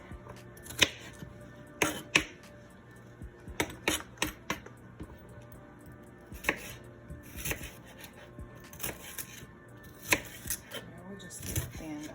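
A knife chops vegetables into slices and cubes on a board for a pan skillet spaghetti, with sharp, irregular close knocks and a few light clinks of kitchenware.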